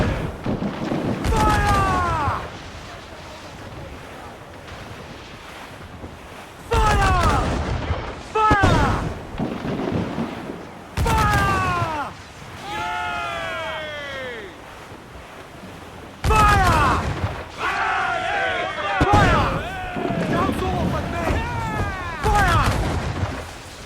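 Broadside cannons boom in repeated bursts during a sea battle in Assassin's Creed IV Black Flag, loud heavy blasts over rushing ocean waves, with crew shouting between the volleys.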